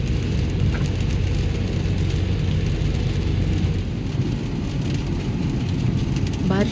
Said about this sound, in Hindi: बारिश काफ़ी ज़्यादा हो रही है